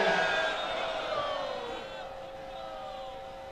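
Crowd at a Pakistani political rally for Bilawal Bhutto Zardari chanting slogans for Bhutto, a loud massed wash of voices with tonal shouted lines that fades slightly and sits at a distance, no clear single speaker.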